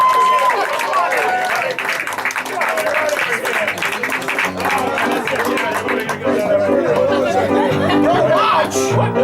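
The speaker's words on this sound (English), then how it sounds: "Let's give a round of applause." At a magic show at the Magic Castle, the crowd breaks into lively applause mixed with chatter and some laughter, while a performer's voice talks loudly over the clapping throughout.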